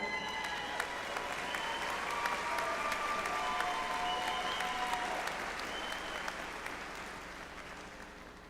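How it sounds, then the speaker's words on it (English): Sustained applause from a ceremony audience honoring doctoral graduates at a spring commencement, a dense wash of many hands clapping steadily throughout, with faint voices and cheers mixed in, tapering slightly at the end. "Please join me in extending another round of applause for our doctoral graduates"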